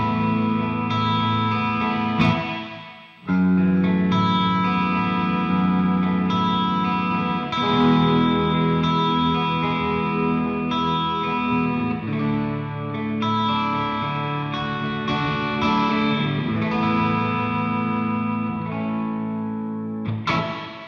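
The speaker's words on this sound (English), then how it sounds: "let's just check out this E140 plate reverb" An E140 plate reverb, a DoGood convolution reverb running on a MOD Dwarf pedal, set fully wet, washes over sustained, distorted guitar chords, with long lush tails and a brief gap of near silence partway through.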